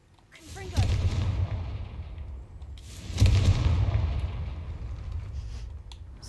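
Two booming blasts from the Confringo explosion spell in the video game Hogwarts Legacy, the first at about a second in and the second a few seconds later, each followed by a rumbling tail that fades slowly.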